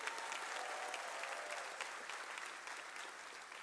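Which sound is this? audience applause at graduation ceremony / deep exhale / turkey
audience applause at graduation ceremony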